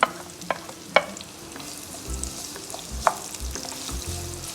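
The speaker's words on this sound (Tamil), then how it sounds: "பெரிய வெங்காயம் நல்லா வதங்கட்டும்." Chopped large onions sizzle steadily in hot oil in a kadai, with occasional light stirring clinks and a soft, even frying hiss throughout.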